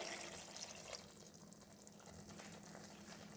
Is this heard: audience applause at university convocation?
no